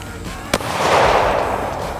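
A single sharp gunshot fired at a Titanium Ridge wallet target outdoors, a loud crack followed by a broad rumbling echo, with a voice present.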